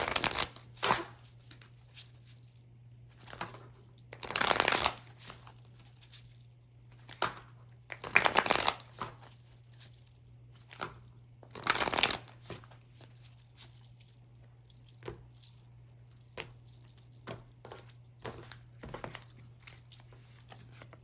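Tarot cards are shuffled and drawn close up, with soft intermittent riffles and crisp bursts of card handling over a steady low hum and quiet gaps.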